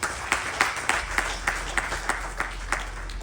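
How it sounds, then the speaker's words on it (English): A small audience at a Ganesh Chaturthi religious gathering claps in fairly regular, distinct beats, some hands standing out over a thin room hum, moderately close. "So please give yourselves a round of applause."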